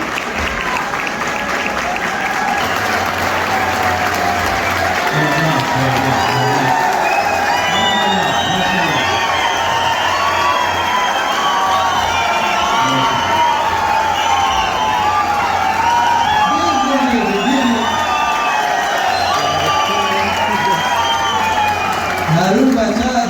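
A crowd at an Afghan independence anniversary celebration in Cologne, Germany, claps and cheers continuously and loudly, with whoops and shouts rising through the sustained applause and a voice talking underneath.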